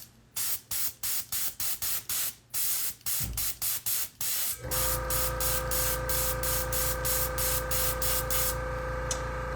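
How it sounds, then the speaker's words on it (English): An air compressor for airbrush painting kicks on partway through and runs with a steady loud mechanical drone and hiss, after a series of short rhythmic spray bursts. "Air compressor is going to make a little noise as it recharges a bit here."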